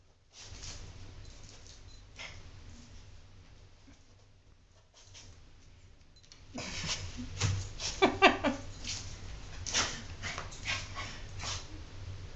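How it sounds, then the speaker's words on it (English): A dog barks and yips in short bursts, getting louder and busier in the second half, with some faint whimpering amid background noise. "What you barking at?"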